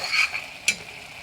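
Garlic paste sizzles briefly in a hot pan while a curry of bottle gourd and dried fish is being made, with a soft stir and a short crackling burst over a faint steady fry.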